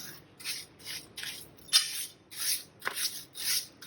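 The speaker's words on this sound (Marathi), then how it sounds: "हे असं मिक्स करून घ्यायचं." Lemon sherbet premix powder being stirred with sugar, a soft gritty scraping repeated in steady strokes about every half second, close and fairly quiet, with no voices.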